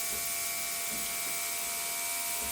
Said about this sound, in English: you'll notice that I'm not spraying directly, I'm almost holding the airbrush at an angle